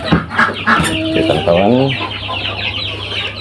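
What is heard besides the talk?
newly hatched joper chicks peeping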